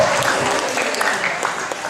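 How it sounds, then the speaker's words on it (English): Congregation clapping at a Christmas church concert, a steady wash of applause from many hands that fades gently, with a voice faintly heard beneath. "Let's return back to your seat again with a clap offering."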